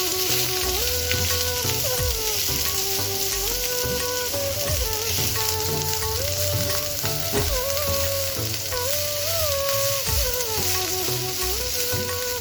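Vegetables stir-fry over a high flame, a dense, continuous sizzle with irregular scraping and tossing knocks in the pan throughout.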